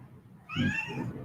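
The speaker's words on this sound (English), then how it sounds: "There is a very needy kitty right behind me." A cat meows close by, one drawn-out, rising-and-falling call lasting under a second, starting abruptly after a quiet moment and trailing into a softer tail.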